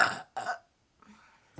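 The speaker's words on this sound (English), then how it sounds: "can you cut the burps out of the video?" Two short, close burps come in quick succession, followed by a fainter, breathy sound after a brief pause.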